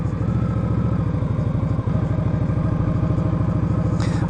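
A 2015 Indian Scout motorcycle engine drones steadily and loudly throughout, a close, continuous throbbing rumble with even pulsing and a brief dip near the middle, no talk over it.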